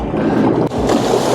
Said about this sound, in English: It's just sloshing right over the top of the front of the Seadoo.